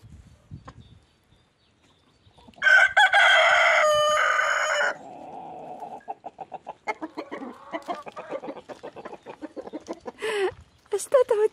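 Roosters crow loudly and close by in one long, strong call, followed by quieter clucking and chattering bird calls with brief bursts of talk.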